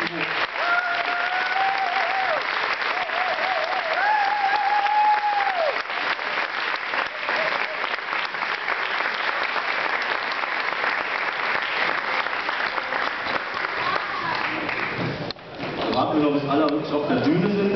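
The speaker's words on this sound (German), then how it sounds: "das ist Ihr Applaus, liebe Anerkennungspreisträger." An audience in Aachen applauds award winners at a ceremony for the 'Integration durch Sport' prize. The clapping is dense and steady throughout, with a voice and faint tones over it.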